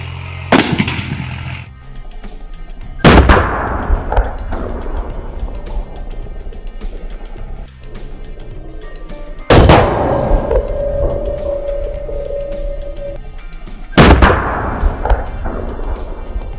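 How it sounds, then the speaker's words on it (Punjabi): A homemade mini cannon fires outdoors at a target, producing four sharp, loud booms spread across the stretch, each followed by a ringing decay, with steady background noise between shots. "ਪੂਰੀ ਤੇਜ਼ ਸਪੀਡ ਨਾਲ ਨਿਕਲੂਗਾ ਜਦੋਂ ਬੰਬ ਚੱਲੂਗਾ"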